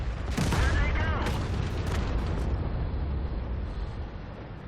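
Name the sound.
tank destroyer gun firing in World of Tanks video game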